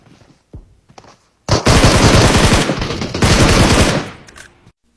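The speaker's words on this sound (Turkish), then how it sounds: "buraya bombalar bombalar atılıyor" Loud, dense bursts of rapid gunfire-like blasts from a game, roaring continuously for a few seconds with brief gaps, after some quiet clicks.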